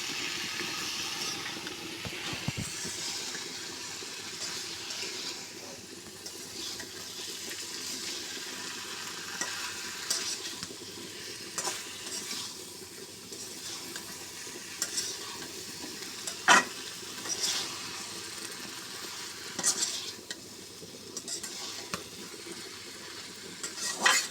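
Taro, okra and potato sizzle steadily in a hot pan while a spatula stirs and scrapes at intervals, a continuous close frying hiss with occasional sharper clinks and no talking.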